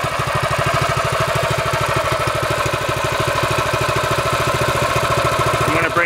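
A new Predator 6.5 hp 212cc small engine, freshly started on its first run with Lucas ZDDP oil, chugs at a steady, rapid idle, loud and close, with its firing pulses evenly spaced throughout.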